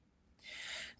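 One short, breathy sneeze burst in a quiet room during a live tarot chat stream, fairly soft and alone with no talk over it.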